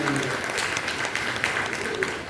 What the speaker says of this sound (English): Clap both for Madam.